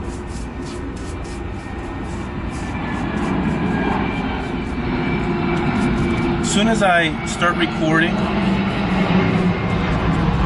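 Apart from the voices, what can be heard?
airplane flying overhead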